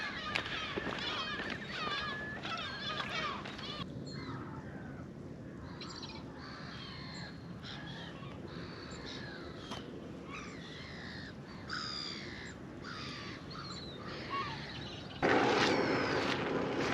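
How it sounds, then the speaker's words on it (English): Harsh, repeated gull calls sound out at a moderate distance over steady outdoor background noise on Cramond Island, Edinburgh, under an overcast sky, with scattered squawks continuing throughout. "You hear the gulls."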